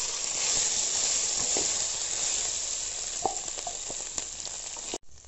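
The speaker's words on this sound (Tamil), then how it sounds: "அதில் இப்போது கடுகு, கடுகும் உளுந்தும் போட்டிருக்கோம்." Mustard seeds, urad dal and potato frying in hot coconut oil, a steady, close, loud sizzle with a few light pops and stirring clicks, ending in an abrupt knock.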